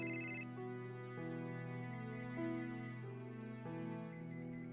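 A telephone ringtone plays a looping electronic melody of steady tones, loud and close, with no talking over it.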